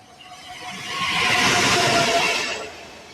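The Berlin-Warszawa Express train rolls into a station in Poznań with a swelling rushing roar and faint metallic squealing tones, peaking loudly before easing off again.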